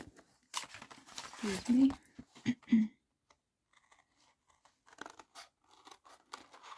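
Scissors cut through a thick piece of card in a few quick crunchy snips, close by, with a person speaking briefly, followed by quieter rustling and handling.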